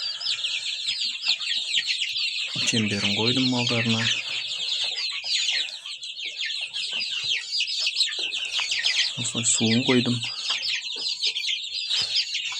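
Chickens and one-month-old chicks, just moved into a roomier pen, cluck and chirp busily throughout, while someone talks at intervals over the flock.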